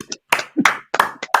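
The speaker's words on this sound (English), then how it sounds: "big round of applause for me" A few separate, sparse hand claps at an improv comedy show, sharp and close, arriving in small irregular bursts with gaps of silence rather than full applause.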